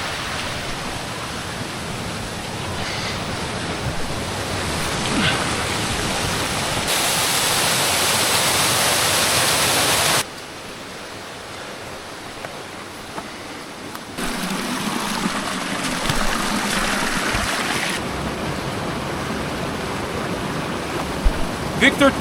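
A creek rushing through a gorge in Newfoundland, a continuous broadband wash of flowing water that swells louder in stretches and drops back, with no voices.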